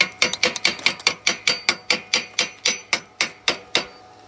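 A hammer chips slag off a fresh weld on heavy channel iron fitted to a log splitter, about twenty sharp, close metallic strikes in a fast steady rhythm, each with a brief ringing tail.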